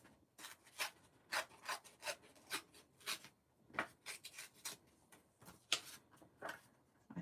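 The edge of green cardstock being torn by hand for card making makes a string of short, dry rasping rips in uneven bursts, close and fairly quiet.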